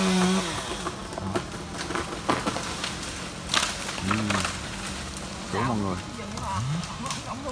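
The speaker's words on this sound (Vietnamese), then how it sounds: "anh tiếp tục anh cưa mấy nhánh nhỏ trước nha mọi người" A chainsaw whines and bogs as it cuts through the small branches of a curved tree, its pitch rising and falling in bursts, with someone talking over it in Vietnamese.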